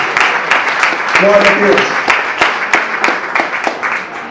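Church congregation applauding steadily, a dense wash of clapping from a crowd with a voice speaking over it and a brief sung or held tone partway through.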